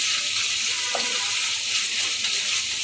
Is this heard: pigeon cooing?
no